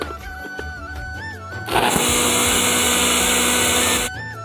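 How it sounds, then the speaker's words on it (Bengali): Electric blender or grinder whirring loud and steady for about two seconds as washed bitter leaves are ground into a paste, starting abruptly and cutting off sharply, with quieter room sounds before and after. "তো একসাথে একবারে সবগুলো বেটে নেব।"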